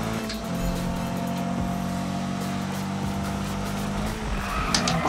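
A car in the Need for Speed racing game slides through a long e-brake skid, with tires squealing steadily over a droning engine for several seconds before the noise breaks up near the end.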